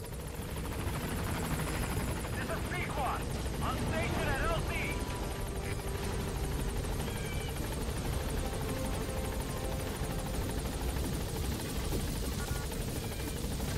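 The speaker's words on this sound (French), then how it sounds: "I'll send the extraction chopper." Extraction helicopter in the video game Metal Gear Solid 5: a continuous rotor drone hums steadily underneath throughout, fairly faint, with brief clicks and game effects over it.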